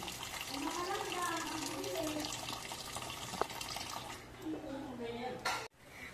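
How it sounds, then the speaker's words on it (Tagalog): Tap water runs steadily into a pot of rice being prepared for the rice cooker, a continuous close splashing stream under a woman's speech, ending with a brief clatter and a sudden stop. "Pang-apat, lagyan ng sapat na tubig."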